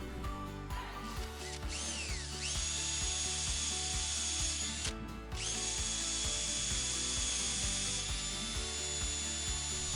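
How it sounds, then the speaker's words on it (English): A power driver drives screws into pressure-treated lumber boards laid on top of a trailer, with a rising motor whine, steady close-up wood rubbing and ratcheting, and short pauses between screws. "I started with cutting the pressure treated lumber in lengths and screw them together"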